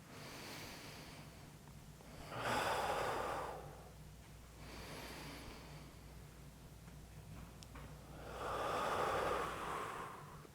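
Slow, deep breathing during a yoga pose, two long audible breath cycles of soft airy inhale and exhale, close and quiet with pauses between.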